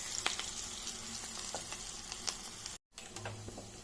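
Pesara punugulu, moong dal fritter batter with chopped onion and green chilli, frying in hot oil, giving a steady crackling sizzle that cuts out briefly near the end before resuming.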